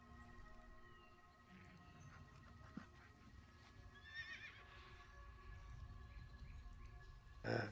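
A horse mount in a video game whinnies clearly, with faint hoof clip-clops and game effects in the background, ending in a brief louder burst.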